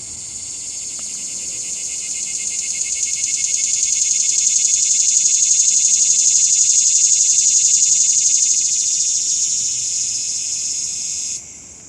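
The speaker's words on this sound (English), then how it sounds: "you could hear the cicada in the background" A cicada sings in one continuous, loud buzzing drone that swells gradually and holds steady for about eleven seconds before cutting off abruptly, heard alone without talk.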